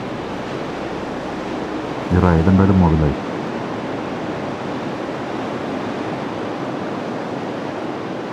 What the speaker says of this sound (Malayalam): നല്ല കടലിൻ്റെ സൗണ്ടൊക്കെ കേൾക്കാം അപ്പുറത്തുനിന്ന്.